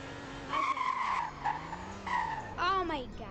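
A car in a Roblox roleplay driving game gives a few long, wavering tire squeals and skids while parking, loud and close, in repeated bursts over a low engine tone.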